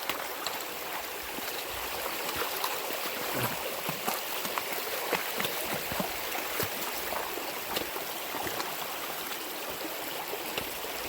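Shallow creek water flows steadily in a wooded gorge during a winter camp crossing in Red River Gorge, Kentucky, a continuous close rushing with small splashes throughout.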